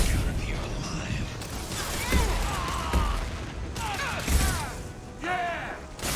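A firefight in Mass Effect 2 brings bursts of gunshots and thudding impacts that rattle out at irregular intervals. Voices of characters can be heard alongside the shooting.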